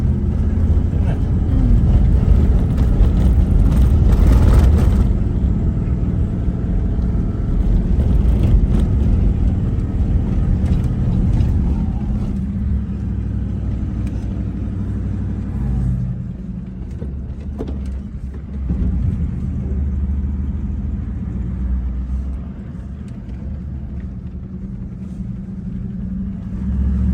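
A four-wheel-drive vehicle pushing through tall grass on the Canning Stock Route, a loud, steady low engine rumble with swishing brush, and people talking now and then.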